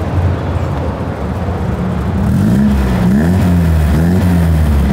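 A classic Toyota 1600GT four-cylinder engine revs up and holds a loud, rising growl, with a steady low rumble beneath and no talking.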